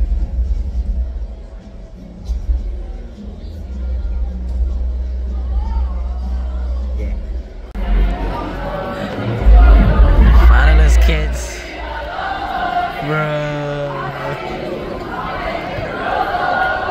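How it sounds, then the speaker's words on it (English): A loud, dense concert crowd roars and cheers at a show, a continuous wash of voices and rumble with nearby people talking. "The crowd goes wild out of nothing."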